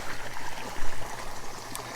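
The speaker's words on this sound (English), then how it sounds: "This is where the water is inflowing" Water trickles and flows steadily into a fishing pond with a soft, close babbling sound and no voices.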